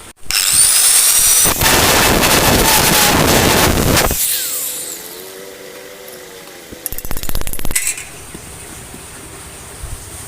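A power tool cuts loudly into a Yamaha F1ZR two-stroke exhaust muffler, a harsh, steady grinding whine for several seconds that cuts off, then a lighter mechanical whir and a brief burst of rattling metal.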